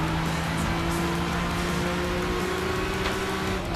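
Gran Turismo 6 car braking on a track, a steady engine drone with sustained tonal whine, continuous and fairly loud, with no talk over it.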